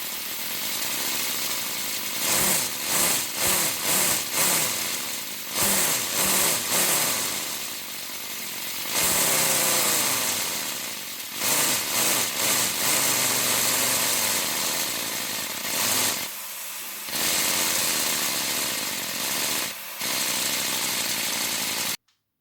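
A 3D printed V10 air engine runs with a busy mechanical whir, repeatedly speeding up and slowing in bursts, with a few brief pauses and restarts, close and fairly loud.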